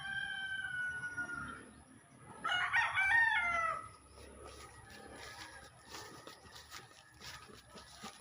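Young roosters at a small backyard poultry pen crow nearby, one long crow followed by a louder overlapping one, over a noisy farmyard background with faint clucking.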